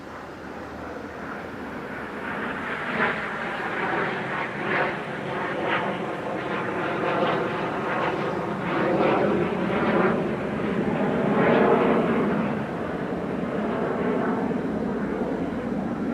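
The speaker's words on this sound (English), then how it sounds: "Lots of military aircraft flying above today." Military aircraft pass overhead outdoors in Tainan, Taiwan, a loud, sustained jet roar that swells and fades over several seconds, with no one talking.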